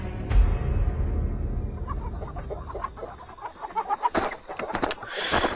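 Chickens clucking nearby, a loud squawk at the start followed by a run of short, irregular clucks and calls, with a sharp cry near the end over quiet rural background.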